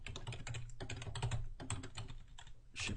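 Quick, uneven keystrokes clatter on a computer keyboard up close as someone types a formula, a continuous soft patter with a brief lull before a final burst.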